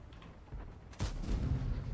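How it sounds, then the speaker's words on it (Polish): A single heavy tank cannon shot from an STB-1 tank bursts out in a game, followed by a low rumbling tail, over a background of engine noise. "No ten strzał w ruchu niestety nie wszedł."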